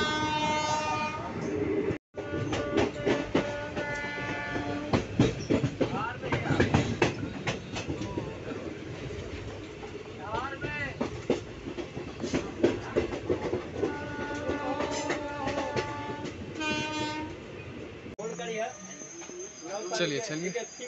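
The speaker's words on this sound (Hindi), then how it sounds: "ट्रेन तो खुल चुकी है" A passenger train in India pulls out and runs along the rails, with rhythmic clickety-clack and rumble, a horn sounding, and people talking over the train noise throughout.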